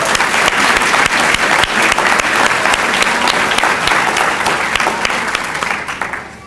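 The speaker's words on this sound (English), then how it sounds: "Let's give one more round of applause for Mr." An audience at a National Society of Collegiate Scholars ceremony applauds Mr. Mitchell with loud, dense clapping that holds steady for several seconds and then fades out toward the end.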